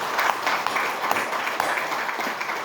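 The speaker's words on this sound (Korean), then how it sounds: "오늘 박수로 한번 축하를 해드리게요" Applause from mourners at a Won Buddhist memorial rite, a steady, moderately loud rush of many hands clapping together without pause.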